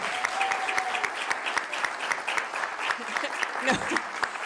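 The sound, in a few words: applause for the team at council meeting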